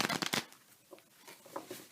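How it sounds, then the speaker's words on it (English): A brief burst of tarot cards shuffling close by, a few quick papery slaps, then quiet soft handling sounds. "let's give a shuffle here"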